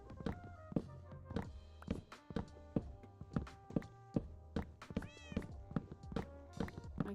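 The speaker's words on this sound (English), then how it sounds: "My cats are just out here hanging out." Domestic cats in a Minecraft world meow repeatedly and close, with several short rising meows mixed with light taps and thunks of footsteps beneath a soft tonal music background.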